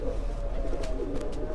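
A flock of pigeons kept on a rooftop in Gorali, Gujrat, cooing steadily nearby, a soft, throaty warble that runs on without pause.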